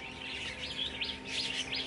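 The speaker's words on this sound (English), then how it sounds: "The birds are making a noise this morning, just sitting in the trees singing away" Birds sing in the trees on a morning at home, with repeated bright chirps and tweets rising over a faint steady background hum, fairly close and lively across the short stretch.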